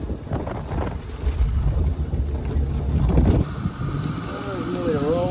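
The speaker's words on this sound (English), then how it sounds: "The wind's starting to pick up." Gusty wind buffets the microphone outdoors in tall grass, a rumbling, rushing roar that swells and fades, with a vehicle engine and a voice audible partway through.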